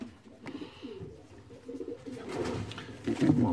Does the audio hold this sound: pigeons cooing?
yes